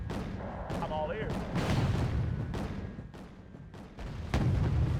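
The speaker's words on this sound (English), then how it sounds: "they do have these 76mm cannons, which are pretty good at taking out these Shantals" 76mm naval cannons on Type 21 and Pegasus warships firing in Wargame: Red Dragon: a series of sharp, booming shots at an irregular pace over a rumbling battle background, with brief voice lines.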